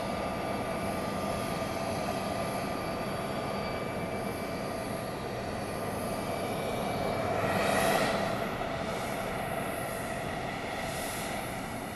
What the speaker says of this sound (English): various officials move toward the plane, which has taxied forward, come to a stop